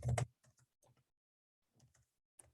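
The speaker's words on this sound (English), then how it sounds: "So I'm typing in a number and I'm hitting enter." Numbers typed on a computer keyboard into an Excel spreadsheet, with a quick cluster of clacks followed by sparse separate key taps and a final keystroke like the enter key, close and crisp in a quiet room.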